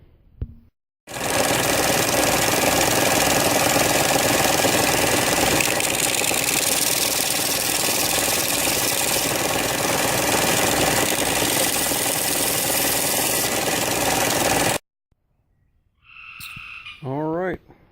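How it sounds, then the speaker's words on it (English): A bench sander grinds a wooden canjo blank that was cut out with a jigsaw, a loud continuous whirring roar lasting about fourteen seconds before it cuts off, then a brief squeak. "going to take it to the sander now"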